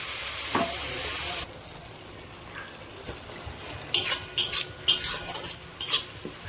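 Ground onion paste frying in a pan for a raw fish curry, a loud hiss that drops away before a run of quick metal spoon scrapes and clinks against the pan, close and without talk.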